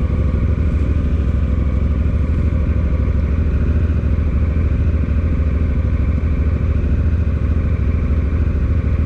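A Honda Africa Twin motorcycle on a long ride, with a loud steady engine drone and heavy rumble, mixed with wind and road noise and no break in the sound.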